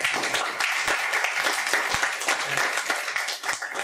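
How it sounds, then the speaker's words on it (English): An audience at a panel discussion on Indian elections and data gives a round of applause, a full continuous patter of many hands clapping for several seconds, heard without speech over it. "may we have a big round of applause for the panelists"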